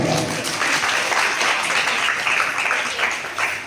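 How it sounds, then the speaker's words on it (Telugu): A crowd applauds continuously, dense clapping that stays loud and even from start to finish. "చప్పట్లు గట్టిగా"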